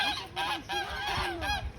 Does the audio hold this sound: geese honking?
yes